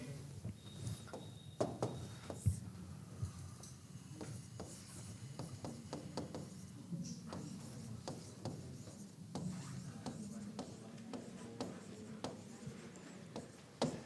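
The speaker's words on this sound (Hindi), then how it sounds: "एक सेंटेंस और लिख रहा हूं" A teacher writes an English sentence, with a pen or marker scratching and rubbing across the writing surface. The strokes are close and irregular, with short scrapes and taps over faint room noise, and there is no speech.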